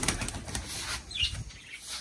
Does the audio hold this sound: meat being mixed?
no